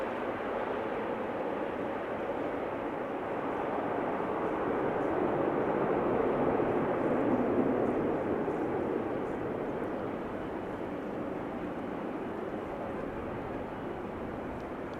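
An ITA Airways airplane in retro Alitalia livery arrives at Amsterdam Schiphol on a summer evening, its steady broad jet roar heard from a distance and swelling gently before easing off.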